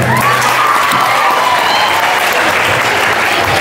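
A school audience at a National Science Day celebration applauds loudly and continuously, dense clapping with a faint crowd murmur underneath.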